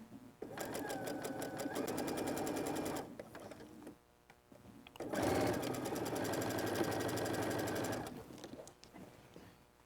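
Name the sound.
sewing machine stitching a mini quilt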